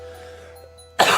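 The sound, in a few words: coughing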